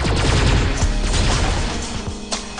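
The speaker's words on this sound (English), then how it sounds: "Shoot some crates and some barrels." Gunfire shooting crates and barrels in the Alien Shooter game: a rapid, loud stream of close shots mixed with crunching impacts, tapering slightly toward the end.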